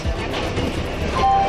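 A train rolls into a station with a steady broadband rumble of wheels and carriages, and a high squeal rises near the end.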